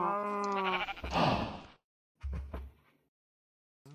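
Sheep in a farm video game bleat twice, a long wavering cry followed after a short pause by a briefer one, close and clear against silence, with the start of a third call at the very end.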